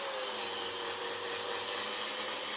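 An angle grinder disc smooths the weld face on a steel bend-test strap, producing a continuous, harsh high-pitched grinding rasp at close range with no break.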